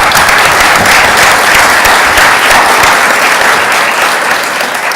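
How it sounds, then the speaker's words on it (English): Sustained round of applause from a roomful of people at a government cabinet meeting, loud and steady throughout with dense clapping and no talking. "Let's give the team another round of applause."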